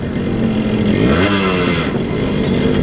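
A fully restored Yamaha RX-100 two-stroke motorcycle engine idles close by with a buzzy burble, then revs up and eases back in one quick, crisp sweep.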